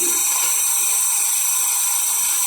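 A DC series motor runs steadily on a load test bench, giving a constant loud high-pitched whine and hum with no change in pitch or level throughout.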